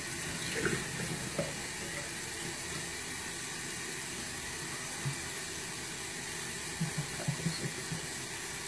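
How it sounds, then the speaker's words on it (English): Water runs steadily from a bathroom tap into a sink during a face splash, a constant close hiss and splatter with a few small splashes and no talking. "I'm sure you could splash your face a little bit."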